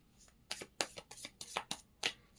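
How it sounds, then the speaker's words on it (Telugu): Tarot cards being shuffled by hand, a quick series of about eight crisp riffling flicks in uneven bursts, close up with no talk. "ఎప్పుడైతే నేను షఫుల్ చేస్తున్నాను"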